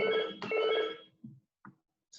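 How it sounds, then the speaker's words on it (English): A telephone rings in a room, a harmonic ringtone heard in two bursts before trailing off, followed by short faint knocks and noises. "It's phone ringing now"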